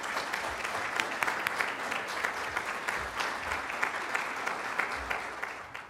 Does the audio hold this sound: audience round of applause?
yes